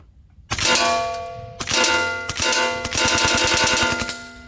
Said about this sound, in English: I'm going to do a couple shot bursts and then empty the mag